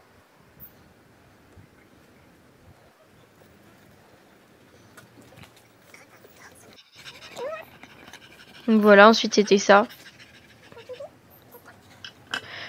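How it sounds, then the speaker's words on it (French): A dog pants in quick rhythmic bursts close by, after a woman's soft speech. "On entend mon chien respirer,"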